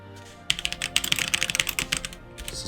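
Rapid burst of computer keyboard typing, close and fairly loud, with irregular clicking keystrokes over a couple of seconds, alone without talk.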